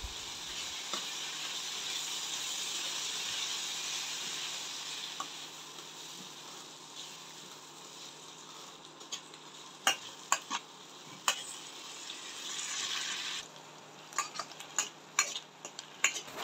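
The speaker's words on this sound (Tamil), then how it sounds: "மிதமான தீயில் கீரையை 5 நிமிஷம் வதக்குங்க." Vallarai spinach greens sautéing in a pan over medium heat for a chutney, a steady soft sizzle with scattered sharp clinks and scrapes of a stirring spoon, louder taps near the end.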